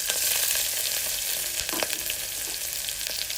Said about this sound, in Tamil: முந்திரி இதெல்லாம் சேர்த்து நல்லா நெய்யில் வதக்கி விடுங்க.